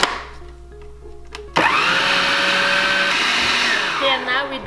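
A blender purées cooked fresh pumpkin, starting after a few quiet clicks with a sudden loud, steady whirring roar that holds its pitch, then shifts and wavers near the end as the mixture churns.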